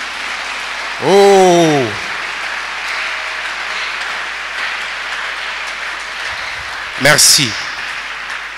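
A church congregation applauds in a steady, diffuse patter of clapping, with a voice speaking briefly at the start and again near the end.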